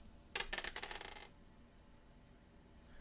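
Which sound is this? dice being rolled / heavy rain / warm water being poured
dice being rolled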